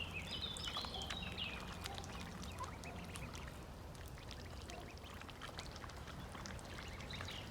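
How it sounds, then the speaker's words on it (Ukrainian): Small ducklings peep and chirp in high, busy bursts amid steady outdoor background noise, with faint splashing throughout. "Семеро каченят, як семеро козенят."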